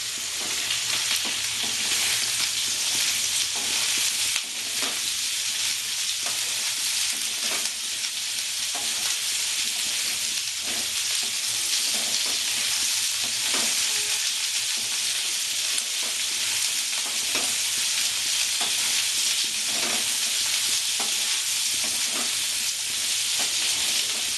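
Capsicum and mixed vegetables for a Bengali-style mixed sabzi fry in a pan, a steady loud sizzle running throughout with repeated scraping stir strokes, no voices.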